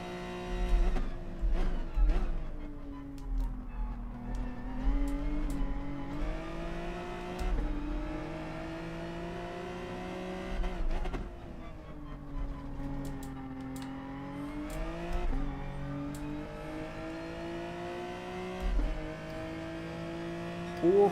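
Porsche and Genesis GT race cars in GT Sport at the Nürburgring GP circuit, engines droning and rising through gear changes as they run down the straight, steady and fairly close.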